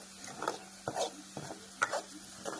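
Chopped tomatoes go into fried masala for a bottle gourd and potato curry, giving a soft sizzle under a handful of distinct spoon scrapes and clacks against the pan, fairly quiet and close.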